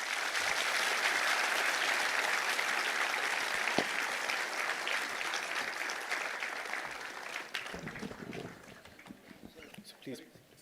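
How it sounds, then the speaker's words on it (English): Audience applause at a conference session, a dense sustained clapping that fills most of the stretch before thinning and fading near the end, with a few voices emerging as it dies away. "May I just request all of you to give the speakers a big round of applause."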